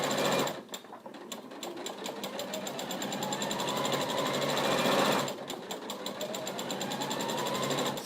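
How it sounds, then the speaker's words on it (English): Sewing machine top stitching down the side of a seam on a scrubs bag, with a fast, even needle chatter running continuously and one brief pause partway before it resumes. "I'm just going to top stitch down the other side of the seam"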